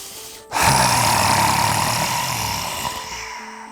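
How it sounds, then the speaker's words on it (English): A yoga group on the Gold Coast takes a loud, full in-breath together, a broad breathy rush that rises suddenly and holds steady for about three seconds before fading. "So a nice full breath in. A bit louder this time"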